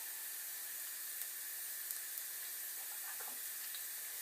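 Minced garlic sizzles in hot oil for special fried rice, a faint, steady crackling hiss with a few tiny pops and no voices.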